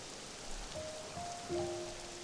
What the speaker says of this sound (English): Rain's good, rain time,